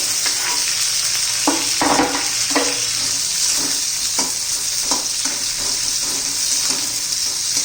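Finely chopped onion frying in a pan with garlic and green chilli for a fenugreek-leaf dish, a constant bright sizzle with repeated spatula scrapes and stirring knocks, close by and without talk.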